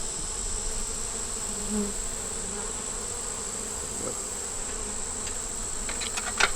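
Bees swarm around a caged queen outdoors beside a swarm box, a dense, steady buzzing that holds for the whole stretch, with a few louder individual insects passing close and a faint tap near the end.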